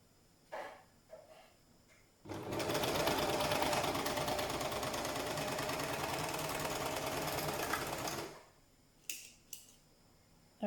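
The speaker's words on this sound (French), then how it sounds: "on va juste coudre cette extrémité-là" Sewing machine stitching the neckband of a tank top, a steady loud whirring run of about six seconds, with brief handling clicks before and after it.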